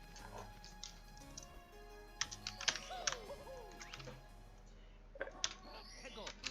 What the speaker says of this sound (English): you can actually just alternate spamming between the A button and a certain direction on keyboard